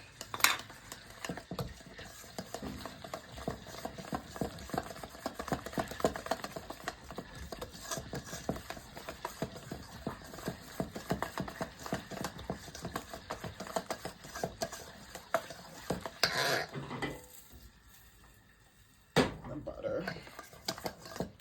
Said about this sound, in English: I'm gonna mix that in here